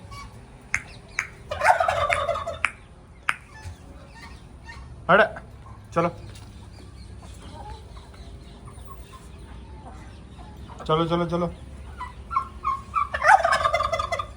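Farm fowl, likely a hen, cluck and call in short bursts among a mixed flock in a farmyard, with someone talking over the birds at intervals.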